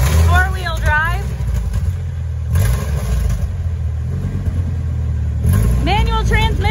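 A 1999 Ford F-350 Super Duty Lariat four-wheel-drive truck with a manual transmission rumbles steadily at idle nearby, a low constant drone while a person talks over it.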